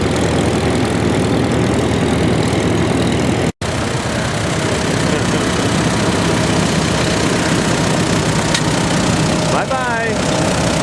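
A Super MTA tractor running on LPG idles at a Red Power Round Up show while towing a diesel MTA that has engine trouble; a steady low rumble sits under dense outdoor crowd noise and background voices.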